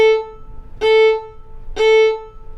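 Two short, separated staccato bow strokes on a fiddle-type string instrument, each note bright and clipped with a brief gap before the next, played close and alone.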